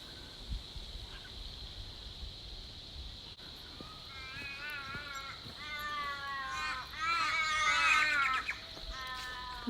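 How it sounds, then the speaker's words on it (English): Birds in Yanchep National Park, West Australia, give repeated harsh crow-like caws that grow louder and more frequent in the second half, over a steady high-pitched cicada drone. "The only noise you should hear around here are the birds and the cicadas."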